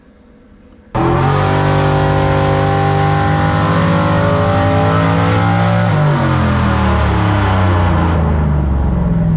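A turbocharged LS-swapped Foxbody, small-block engine on Holley EFI running about 8 psi of boost, makes a loud sustained dyno pull, its drone climbing steadily in pitch before dropping off near the end as the throttle closes.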